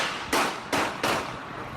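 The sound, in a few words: gunshots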